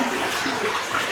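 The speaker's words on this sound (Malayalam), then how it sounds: "അടിയിൽ കൂടെ നല്ലോണം വെള്ളം പോകുന്നു." Water rushes beneath a path through a German forest, a continuous broadband gushing flow heard close and fairly loud, with no talking.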